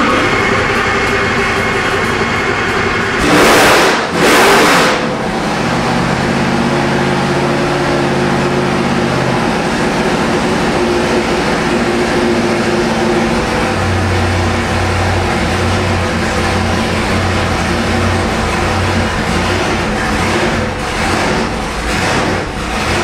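Loud, steady roar of a 1200-horsepower supercharged 572 big-block Chevy on a dyno with laptop-programmable ignition, holding a sustained drone across the whole stretch, with a brief surge of blips early on.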